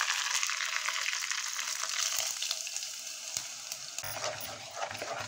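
Curry leaves hit hot oil with mustard seeds, cumin and urad dal, giving a loud, continuous spitting sizzle that eases slightly before a sharp change near the end, with scattered crackles and no speech.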